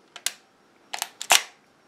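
An Exakta SLR film camera gives quick mechanical clicks: a pair of crisp shutter snaps, then a ratcheting burst of clicks and a louder metallic clack as the film advances, close and isolated.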